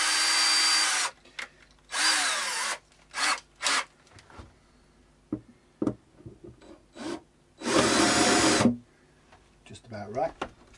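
Drill bit countersinking a hole for a rosewood guitar bridge on a Mountain F100, heard as several short loud whirring bursts of varying length with brief handling noises between them.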